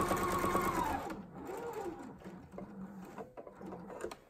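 A sewing machine stitches quilt binding in a short loud whirring run that stops after about a second, followed by faint handling noises.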